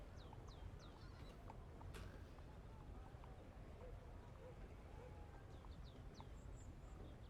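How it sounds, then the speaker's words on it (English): Outside, a bird gives a few odd, quick rising calls in short bursts, faint and distant over a constant background hiss. "There's a bird making a weird sound outside."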